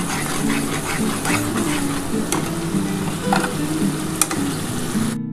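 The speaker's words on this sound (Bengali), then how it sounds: "যতক্ষণ না তোমাদের তেলটা ছেড়ে ছেড়ে আসছে ততক্ষণ তোমরা কিন্তু মশলাটা ভালোভাবে কষাতে থাকবে" Spice paste of mustard and poppy seed frying in oil for a pabda fish curry, sizzling steadily up close while a utensil stirs and scrapes the pan, with occasional sharp clinks.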